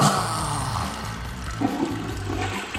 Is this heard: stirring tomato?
no